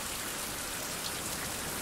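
Steady rain pours down in the Caribbean shipwreck survival game Fountain of Youth, a dense, even hiss of drops filling the whole moment without pause.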